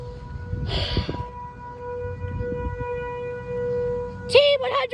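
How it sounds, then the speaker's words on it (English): An ASC T-128 civil defense siren sounding in Cambridge, Wisconsin: a steady, faint tonal wail on a hot day, with brief breathy noises nearby and a louder rising tone near the end. "The sirens are going off."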